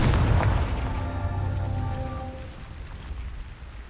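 A fiery explosive spell from the video game Hogwarts Legacy detonating in one heavy booming blast that rolls out and decays over a few seconds, with rumbling debris and a faint tonal ring underneath.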